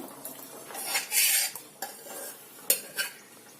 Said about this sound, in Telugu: పప్పు వేసుకొని మంచి కలుపుకోండి